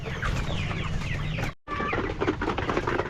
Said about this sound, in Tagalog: Tara, pakainin muna natin yung mga chicks natin mga master.